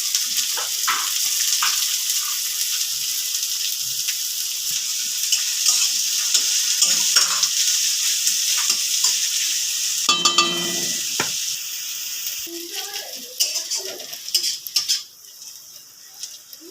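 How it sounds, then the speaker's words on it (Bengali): Chopped onions frying in mustard oil in a kadai with whole spices, a continuous close sizzle broken by scraping stirs of a spatula, quieting toward the end. "পেঁয়াজটা ভালোভাবে ভাজা হয়ে গেছে।"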